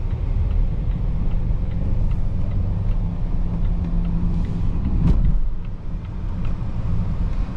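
A 2025 Volvo XC90 B6 Ultra SUV accelerates, heard from inside as a steady, fairly loud low cabin rumble with a brief thump midway and a slight drop after.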